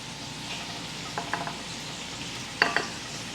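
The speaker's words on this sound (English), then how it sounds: "Can you hear my tomatoes popping, by the way?" Tomatoes sizzle in hot oil in a pan, a steady frying hiss with a few soft pops and one sharper crackle near the end, fairly quiet and close, with no talking.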